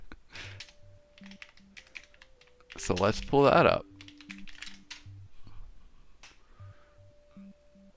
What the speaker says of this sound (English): Ignore the fact that I could not type for anything.